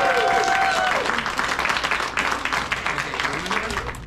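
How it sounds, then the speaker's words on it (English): A robotics competition crowd applauds the Wabati team in a burst of clapping mixed with cheers, loud at first and then thinning slightly, with a whistle-like tone briefly at the start. "Other applause for the Wabati team."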